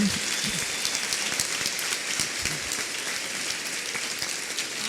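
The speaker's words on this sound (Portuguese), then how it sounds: "Uma salva de palmas para quem fez a comida." A church congregation gives a round of applause at a closing gathering, a steady, close wash of many hands clapping, dense and even throughout with faint voices underneath.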